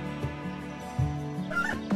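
Soft, brief clucks from chickens in the farming game Doraemon Story of Seasons, a few quiet bird calls against continuous game music.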